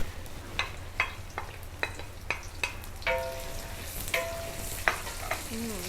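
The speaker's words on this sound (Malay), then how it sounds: "So minyak dah panas, kita mula tumis bawang ni semua ya." Onions frying in hot oil in a copper wok: steady sizzling with scattered sharp crackles and stirring clatters, a couple of brief metallic scrapes, no talking.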